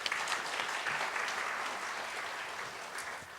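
Church congregation applauding after a choir's hymn, a steady wash of clapping at moderate distance that holds for a few seconds without talk.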